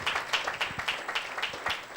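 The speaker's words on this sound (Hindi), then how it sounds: "एक जोरदार ताली देते हैं परमेश्वर के नाम की महिमा के लिए" A church congregation claps for a couple of seconds during a worship service, a fairly rhythmic patter of hands at moderate volume.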